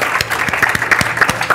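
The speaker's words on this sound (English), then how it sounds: "Can we get another round of applause for our speakers?" A conference audience gives speakers a round of applause at a pandemic-preparedness session: dense, steady clapping from many hands fills the room with close, rhythmic claps throughout.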